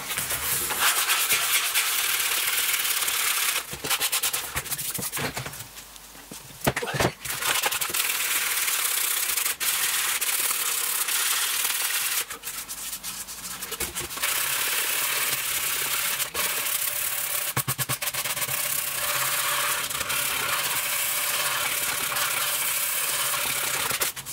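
A PRS-style DIY guitar kit body is sanded by hand with 240-grit sandpaper, giving a continuous close, loud scratchy rubbing with brief pauses and changes of stroke.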